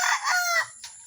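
Rooster on a small farm with pet chickens lets out a single short, close crow that trails off quickly into quiet.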